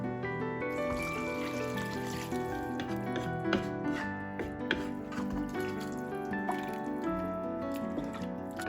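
Water runs steadily into a cooking pot of cabbage soup, a continuous, fairly quiet pouring trickle that holds for several seconds with no talk over it.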